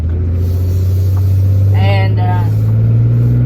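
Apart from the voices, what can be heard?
car passing on country road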